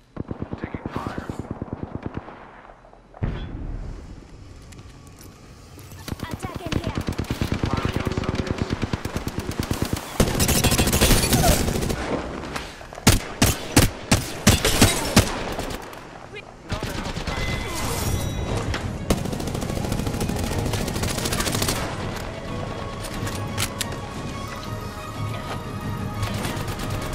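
Sustained bursts of automatic gunfire and single shots crackle through an Apex Legends firefight, loud and near, with heavy rapid volleys packed mid-clip and steady shooting throughout, while a voice talks over the action at times.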